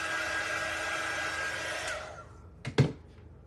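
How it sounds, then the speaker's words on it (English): A small handheld heat tool warming craft wax blows with a steady, loud whirring hiss, then cuts off, followed by a couple of sharp clicks and taps nearby. "Take your little heat dry tool and heat it up just a little bit."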